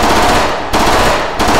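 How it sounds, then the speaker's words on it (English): A machine pistol in the VR shooter H3VR fires fully automatic in two long, loud, continuous bursts separated by a brief pause, with no talking. "you can actually hold down the trigger and fire the weapon fully automatic"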